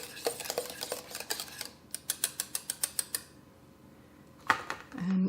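A utensil stirs vanilla pudding in a pot, making a run of quick, light scraping and clinking strokes in a regular rhythm, followed by a quieter pause and one last knock.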